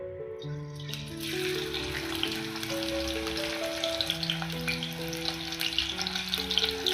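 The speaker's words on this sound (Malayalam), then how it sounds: "ഇനി നമുക്ക് സവാള ഇട്ട് നന്നായിട്ടൊന്ന് ഫ്രൈ ചെയ്തെടുക്കാം." A small onion fries in oil in a hot pan, giving a steady, close hiss and crackle that starts suddenly and keeps going, with a musical tune underneath and no voices.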